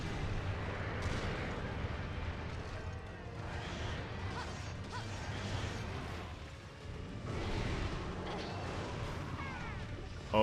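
Dense, continuous battle noise from Monster Hunter Tri, with heavy booming impacts and crashing hits layered throughout, loud and steady with a brief dip partway before the clamor returns.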